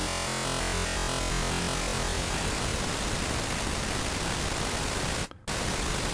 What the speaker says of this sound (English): let's start sounding like white noise all the way up